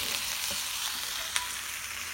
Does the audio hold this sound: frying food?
yes